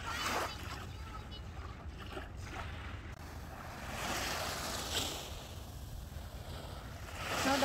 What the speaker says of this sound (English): Now the water is coming higher.